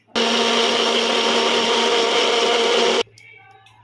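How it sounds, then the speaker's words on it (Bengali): An electric mixer grinder whirs loudly as it grinds poppy seeds and cashews with a little water into a paste, a steady high-pitched motor drone for about three seconds that stops abruptly. "এবার আমি পোস্ত আর কাজুটা বাটছি।"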